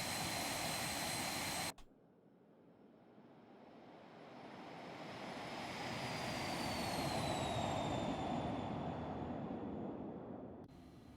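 A Phenom 300 jet in the X-Plane flight simulator whines steadily as throttle is added, the engine tone climbing and swelling in loudness after an abrupt cut, with a rising high-pitched whistle over a constant roar.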